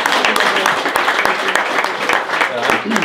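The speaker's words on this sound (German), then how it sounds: "Kleinen Applaus für deinen Schwiegervater" A small group applauds a father-in-law during a live broadcast from a pig barn, quick scattered clapping with voices mixed in close by.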